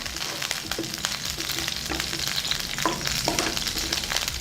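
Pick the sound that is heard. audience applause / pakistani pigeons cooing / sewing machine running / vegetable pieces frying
vegetable pieces frying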